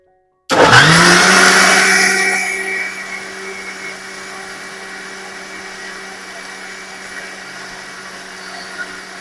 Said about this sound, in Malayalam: അതിന് വേണ്ടിയിട്ട് ഞാൻ മിക്സി ഒക്കെ ഇട്ടിരിക്കുന്നത് അപ്പൊ ഇനി നമുക്ക് അരച്ചെടുക്കാം